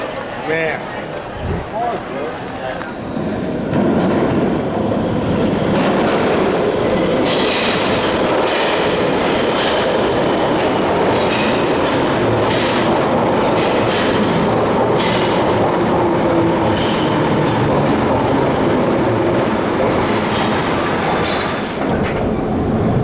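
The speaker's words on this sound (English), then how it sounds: "This is a Piccadilly line service to Cockfosters." A London Underground Piccadilly line train bound for Cockfosters rumbles loudly and steadily with rail clatter and wheel noise, heard from aboard, with voices and an announcement under the din.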